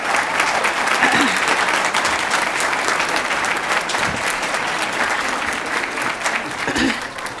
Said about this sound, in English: We give them applause.